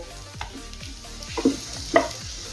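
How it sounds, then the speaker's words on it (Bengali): Spiced potato filling frying in a pan, a soft sizzle under intermittent scraping strokes of a spatula, with a couple of louder clatters near the middle, close by. "আর 1 থেকে 2 মিনিটের জন্য আলুর পুরটা একটু ভেজে নেব।"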